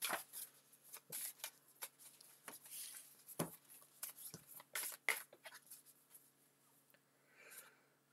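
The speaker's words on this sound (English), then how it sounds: "Just shuffle and draw one" A deck of Kingdom Death: Monster game cards shuffled by hand, quiet papery riffles and flicks in uneven bursts, close and soft, with no talking.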